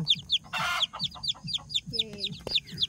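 A chicken clucks over and over in quick short calls near the listener, a steady repeating rhythm with a brief louder squawk and some faint background voice.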